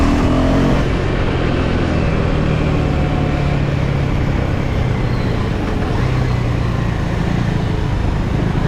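Steady, loud engine and wind roar from a Husqvarna Svartpilen 410 motorcycle being ridden on the road, continuous throughout with slight shifts in pitch as it moves, no talking.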